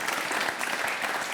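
Studio audience applause on a live French show, a short steady burst of many hands clapping at moderate level.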